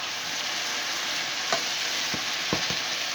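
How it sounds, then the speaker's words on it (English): Vegetables being stirred in a pot while cooking a moose meat shepherd pie: a steady hiss of sizzling underneath a few scattered scrapes and knocks from the spoon, with no talking. "Keep stirring this up."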